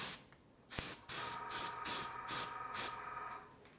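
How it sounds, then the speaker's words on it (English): Short bursts from a spray gun putting colour onto one side of a blown sugar apricot, six loud airy hisses in an uneven rhythm with quiet gaps between, close up. "I'm just spraying only in one side here."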